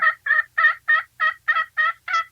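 Game call imitating turkey yelps: eight evenly spaced, sharp yelping notes in quick succession, close and clear against silence, with no talk.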